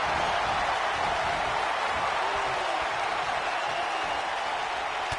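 Arena crowd noise in the WWE 2K19 wrestling game forms a dense, steady roar of cheering throughout, an even wash of sound with no distinct voices.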